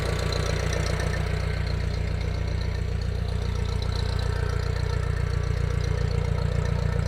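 An International Harvester IH 504 tractor engine idles close by in a steady, loud, low chugging rumble with an even rhythmic knock throughout and no talking.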